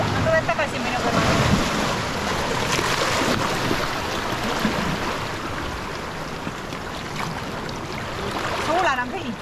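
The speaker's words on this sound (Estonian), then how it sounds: "Nüüd laine tuleb jälle." Mediterranean sea waves wash ashore with a steady, moderately loud rushing swell, mixed with wind noise on the microphone and no talking.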